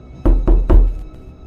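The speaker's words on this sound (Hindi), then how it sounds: "तभी किसी ने उनके दरवाजे पर जोर से दस्तक दी।" Three loud, heavy knocks on a door in quick succession, each a deep thud with a short decay, set against a quiet background during a storm.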